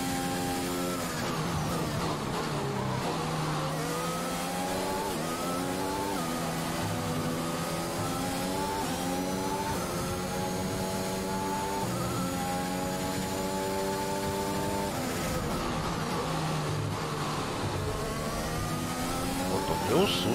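Formula 1 race car engine on a straight in the F1 2021 racing game, a steady high-pitched whine with rising gear sweeps and upshift steps, loud and continuous under someone talking.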